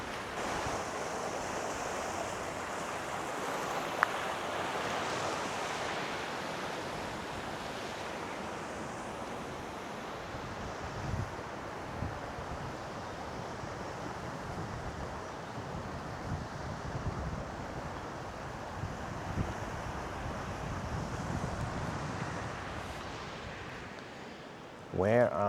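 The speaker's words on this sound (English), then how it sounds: "It's quite windy here now. Way more wind than on any of the other piers" Strong wind buffeting the microphone on a sea pier on the Ring of Kerry between Kenmare and Sneem, over a broad roar of surf, gusting unevenly throughout with a few faint voices in the background.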